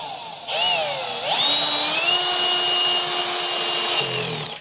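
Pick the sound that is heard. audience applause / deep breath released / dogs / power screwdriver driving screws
power screwdriver driving screws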